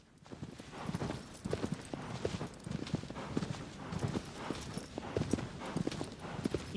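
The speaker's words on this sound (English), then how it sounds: "He's a horsey." A horse galloping in the video game Shadow of the Colossus, with quick rhythmic hoofbeats that thud steadily and evenly at moderate loudness throughout, with no voices over them.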